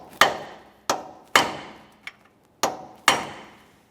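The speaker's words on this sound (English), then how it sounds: "I'm just using a hammer and punch. We'll give this a couple taps." Six sharp metallic hammer taps on a punch against a nut while replacing a steering knuckle on a 2014-2019 Toyota Corolla, irregularly spaced, each with a short ringing decay; one blow is noticeably lighter than the rest.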